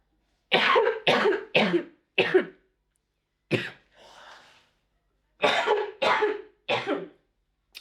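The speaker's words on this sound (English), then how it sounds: "I have to cough because I hit in here." Repeated harsh coughs come in two bursts of several each, with a short breathy pause between them, close and loud.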